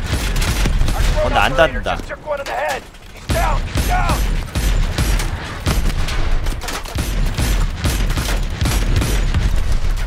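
Cannon and gunfire from the video game Call of Duty: Advanced Warfare: loud, rapid volleys of shots and heavy blasts with mechanical clatter, continuous throughout, with brief talk over the top.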